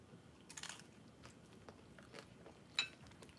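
Someone eating pizza up close, with soft bites and crunchy chewing in short irregular bursts, one sharper crunch near the end, quiet and intimate with no talking.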